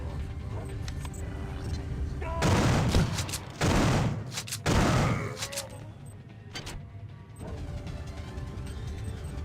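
Shotgun fire in System Shock 2, a few loud, sharp blasts clustered in the middle with a reverberant tail, set against low game ambience.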